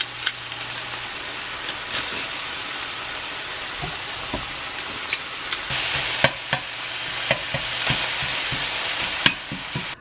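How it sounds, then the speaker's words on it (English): Onions and garlic from a home garden fry in a pan with ground beef, giving a steady sizzle and crackle while a utensil scrapes and taps irregularly against the pan, close and moderately loud, with no talking. "Now I'm adding the onions from our garden and garlic"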